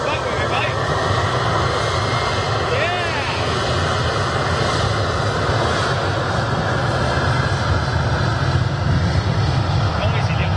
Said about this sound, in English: Noisy little CF34s.